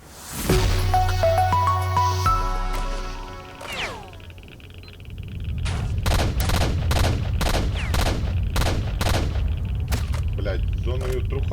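Rapid rifle fire in S.T.A.L.K.E.R. Shadow of Chernobyl cracks out as a string of loud, closely spaced shots, following a stretch of tonal in-game effects.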